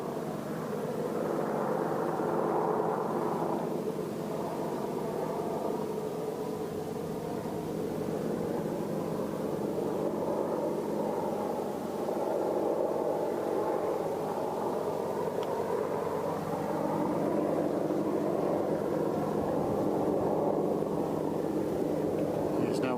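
An Apache attack helicopter flies high over a military airfield, its steady distant rotor and engine drone continuing throughout, with someone talking over it.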